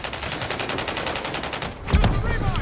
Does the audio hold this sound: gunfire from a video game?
yes